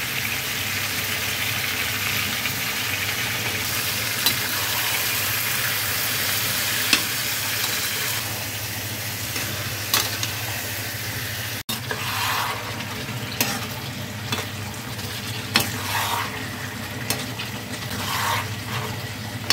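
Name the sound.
sautéing ginger paste, turmeric and chili powder spices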